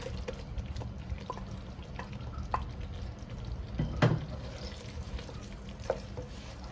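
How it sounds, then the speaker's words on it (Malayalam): Prawns sizzling in hot ghee for a prawn ghee roast, with a steady low frying hiss and scattered pops and drips. One louder stirring clatter lands near the middle, and no one speaks. "ഇനി അതിലോട്ട് നമ്മുടെ ഈ പ്രോൺസ് ഇട്ട് കൊടുക്കാം"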